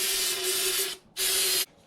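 Aerosol brake cleaner hisses from a can onto a dirty car part in two close, loud bursts, the first about a second long, then a short pause and a second shorter spray; no talking.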